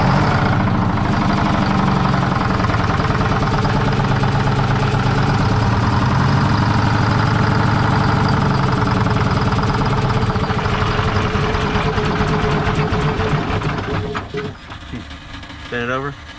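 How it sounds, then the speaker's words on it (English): A cabover truck engine cranks and runs, giving a loud, steady, rough rumble that carries on throughout and then eases and falters near the end. "Okay folks, we're gonna start it back up again."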